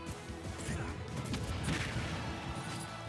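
Grenade explosion in Super Smash Bros. Ultimate during a tournament singles match, a loud crashing burst amid dense game effects and fighting noise over a steady clamorous backdrop.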